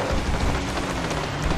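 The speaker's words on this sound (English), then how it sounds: "It started pouring and now it sucks." Heavy rain pours down in the game GTA V, a loud, steady hiss of downpour with a low rumble beneath, continuous and close, with no talking.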